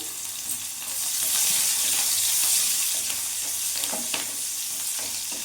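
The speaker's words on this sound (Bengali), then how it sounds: "আদা রসুনটা ভাজা ভাজা হয়ে গেছে বাদামি রং এরই মধ্যে আমি কাঁচা লঙ্কা কুচি দিয়ে দিলাম" Sizzling and hissing of ginger, garlic and green chillies frying in hot oil, swelling louder after a moment, with occasional scraping stirs in the pan.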